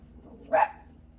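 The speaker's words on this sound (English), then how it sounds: "those are my dogs. There's something exciting. There's something worth barking at." A single short dog bark rings out at moderate distance in a quiet room, standing alone against low background hum.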